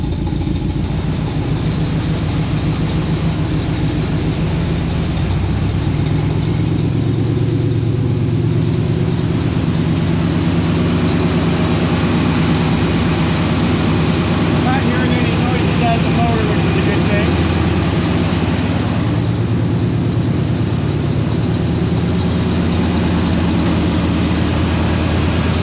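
A car engine settles into a steady idle after two pumps of the throttle, with a loud, continuous low rumble throughout and people talking over it.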